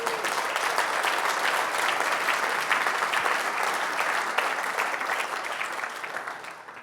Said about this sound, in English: you are the only one on stage getting the full applause